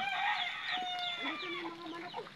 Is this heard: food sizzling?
no